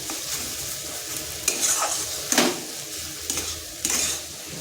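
An eggplant curry simmers on low heat in a pan, with a soft steady sizzle and occasional stirring and spoon scrapes against the pot, no voices.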